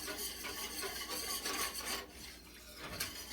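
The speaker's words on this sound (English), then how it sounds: "So as I'm whisking, that flour is mixing in" Butter, flour and broth are whisked into a thickening sauce, giving a steady, continuous scraping and stirring rasp close by, with no one talking.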